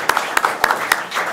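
Several scattered hand claps ring out at an athletic director press conference, a sparse, brief burst of applause from a small group of people, with no steady roar.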